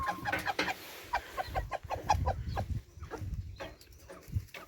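Pekin bantam chickens cluck in a busy chorus, rapid overlapping clucks and short calls, close and fairly loud, with no talking.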